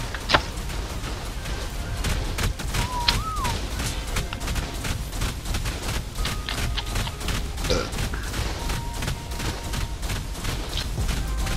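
Bursts of gunfire crackle and thud in the survival game Ark Survival Evolved, with a dense, busy rattle of shots and impacts running steadily throughout at moderate loudness amid game ambience.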